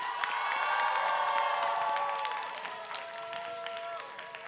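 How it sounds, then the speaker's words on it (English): A live crowd applauds and cheers the finalists at a rose beauty pageant, with clapping, whoops and shouts at full strength that ease off partway through, while music tones sound over the crowd. "Let's give a round of applause for our ladies."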